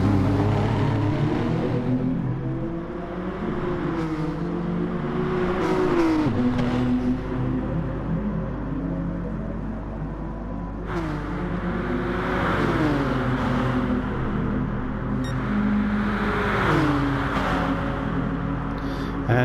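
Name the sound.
race cars racing at Fuji in a racing video game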